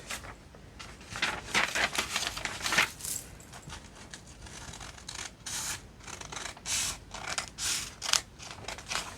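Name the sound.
scissors cutting out a paper journal tag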